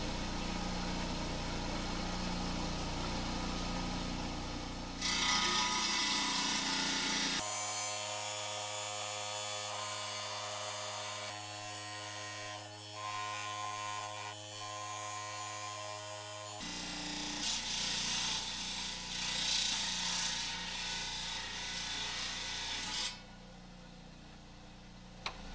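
A lapidary saw cuts through an agate nodule to make slabs, giving a long, steady motorised drone and hum with a gritty grinding layer. The sound shifts partway through and stays close and continuous.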